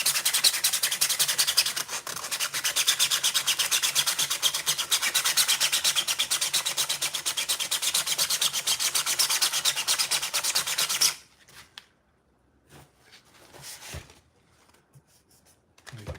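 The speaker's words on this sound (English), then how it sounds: "I'll just go through and we will do a little bit of sanding on this" Sanding a resin-coated 3D print by hand with 120 grit sandpaper, a close, rapid back-and-forth scratchy rubbing that runs steadily for about eleven seconds, then stops, leaving quiet with a few faint handling knocks.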